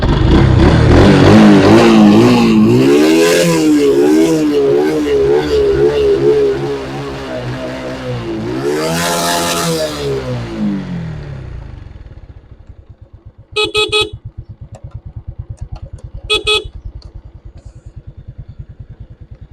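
A restored old motorcycle engine, with a washed fuel tank and a new in-tank fuel pump, runs loud and close and revs up and down several times. It then drops to a rough idle, broken by two short bursts of clatter.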